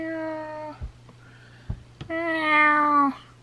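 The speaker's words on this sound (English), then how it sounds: "I love how my cat tries to sneak into my room." Pet cat meowing indoors: two drawn-out, clear meows, the second longer and rising, separated by a couple of soft thumps, close and prominent.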